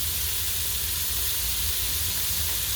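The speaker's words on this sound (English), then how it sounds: "We're just gonna saute that a few minutes, get it softened up." Vegetables sauté in an Emeril Lagasse pressure air fryer, giving a constant, even sizzling hiss that fills the short stretch at steady loudness with no speech.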